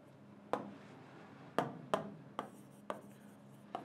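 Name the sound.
writing by hand in a different colour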